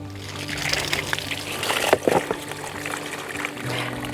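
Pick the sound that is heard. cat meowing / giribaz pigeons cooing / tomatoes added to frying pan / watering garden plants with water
watering garden plants with water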